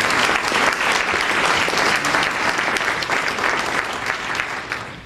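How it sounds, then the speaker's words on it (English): Loud, dense applause from an audience thanking sponsors at a gathering, steady continuous clapping throughout. "Big round of applause for all of"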